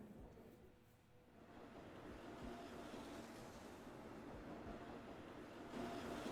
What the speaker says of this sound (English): The roar of the train draws nearer and nearer.